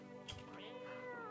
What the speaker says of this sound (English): You reach out and pet the cat.